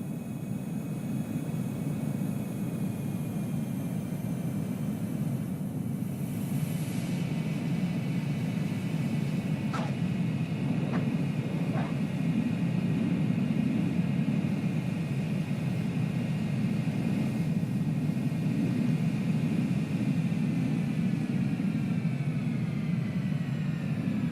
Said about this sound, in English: I love these ILS landings because I can sit outside the airplane and watch it.